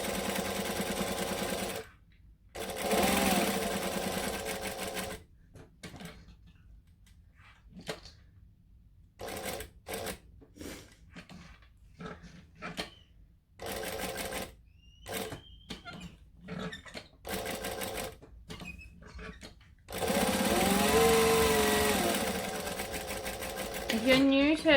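A sewing machine top stitches an accent panel on a bag, its needle whirring in bursts of varying length with pauses between runs, close and fairly loud, while someone talks over parts of it.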